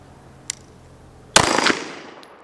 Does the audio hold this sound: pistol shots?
yes